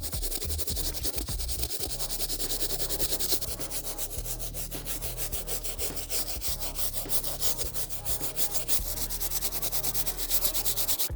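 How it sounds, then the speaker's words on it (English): A stiff bristle brush scrubs hard across the grooved sole of a worn Reebok sneaker, making a continuous close, loud rasping sound in quick back-and-forth strokes with no pauses. No talking. "I'm really trying to get deep in there with the stiff bristle brush"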